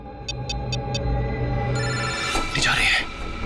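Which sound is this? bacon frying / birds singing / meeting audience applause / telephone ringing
telephone ringing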